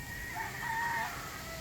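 Chickens and a rooster call from a farm yard, a drawn-out crowing tone over a constant hum of background noise, moderately distant and without talk.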